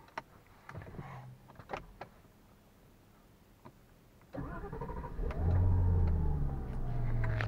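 A car retrofitted with an engine start-stop button in place of the original key clicks and whirs, then its engine cranks and catches, settling into a loud, steady idle up close.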